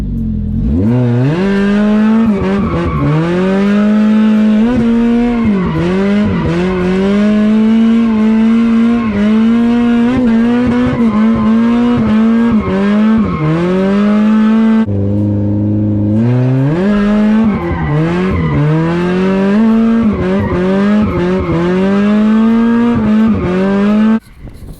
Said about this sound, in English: Maybe like 3 or 4 cars out on the track right now.